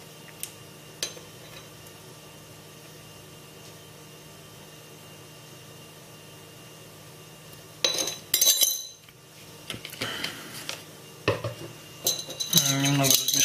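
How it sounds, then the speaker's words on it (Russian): After a quiet stretch, a spoon clinks and scrapes against a glass in quick bursts, stirring a salt, apple vinegar and glycerin solution close by. "Немного размешаем."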